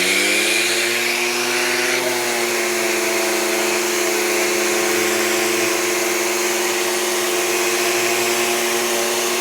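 Shop vac dust collection hums steadily with a wood sander running alongside it during wood finishing, a continuous loud whir with a slight shift in pitch early on and no talking.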